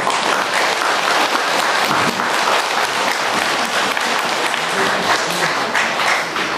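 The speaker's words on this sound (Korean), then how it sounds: "감사의 큰 박수 드립니다" Sustained applause from a seated congregation during a monthly first-day service at Suguksa, a Korean Buddhist temple, dense and steady throughout without a break.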